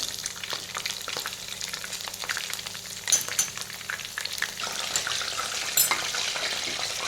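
Quail pieces frying in a pan for a spiced quail fry, sizzling and crackling steadily up close, with scattered pops and occasional stirring scrapes and no talking.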